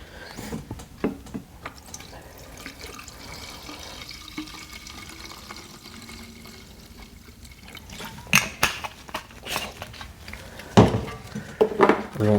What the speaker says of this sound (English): At that point, I put in new fuel mix.